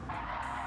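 A race car in a GT racing video game at the Nurburgring skids toward a barrier, a brief continuous tire squeal with engine roar, loud and close.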